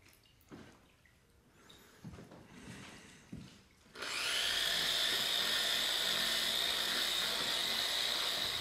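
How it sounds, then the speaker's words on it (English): A polishing machine fitted with a polishing pad runs on granite at speed setting 3, its steady high-pitched whine starting abruptly partway through after a few quieter handling knocks, then holding loud and constant to the end. "we can use a machine with one of the ultimate polishing pads, and we're going to keep the machine on a number 3 speed"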